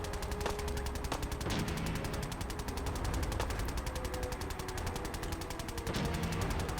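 Rapid, continuous gunfire from a companion's weapon in Fallout 4, a dense stream of shots running steadily through the whole stretch with no talk over it.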